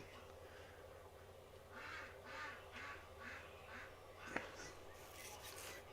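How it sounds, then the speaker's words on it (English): Several ducks quack in scattered bursts at a middle distance over a low steady background hum, with one sharp knock partway through. "You probably can hear my ducks"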